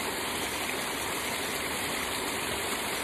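A rain-swollen stream rushes fast and loud with heavy volume, a steady broadband roar of water filling the whole moment without pause, close at hand and with no voices over it.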